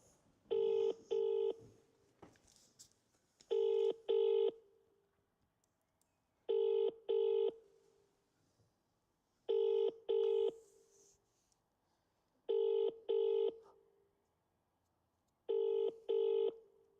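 A telephone rings in repeated double trills, six pairs evenly spaced with quiet gaps between, clear and moderately close.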